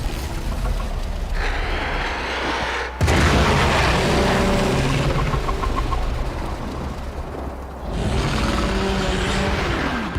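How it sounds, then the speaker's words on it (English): A deep, booming explosion in the video game Warframe, heavy and sustained with rumbling low end, swelling again after a brief lull, loud and close with no talk. "There should be useful detritus falling from the explosion."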